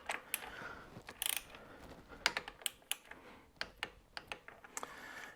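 Sharp, irregular ratchet clicks from a 12mm socket working the brake caliper bolts on a Honda CRF300L motorcycle, close up and fairly quiet, arriving in short bursts with brief pauses and no talking.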